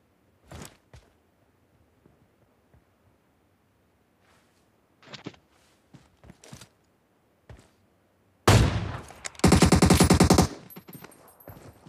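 Gunfire in the PUBG Mobile shooter: a few isolated sharp shots spaced across quiet stretches, then a loud close burst followed by a dense rapid automatic volley lasting about two seconds.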